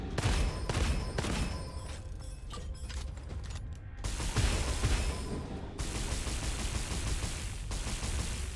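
Gunfire in Gunfire Reborn, repeated sharp shots in irregular bursts with mechanical clicks between them, fairly close over a continuous game background.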